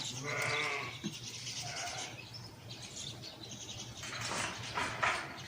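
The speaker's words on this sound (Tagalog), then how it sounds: "Yung mga kambing oh. Dumadaan oh." A small herd of goats wanders past a residence in Saudi Arabia around midday, several bleats rising at irregular intervals over steady background noise, moderately close, with no talk.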